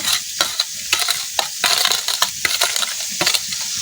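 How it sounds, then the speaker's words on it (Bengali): Fish frying in a hot pan, a steady crackling sizzle broken by sharp, irregular pops and spatters close by, with no talking. "মাছটা আমি ভালো করে ভেজে নেব, লাল লাল করে।"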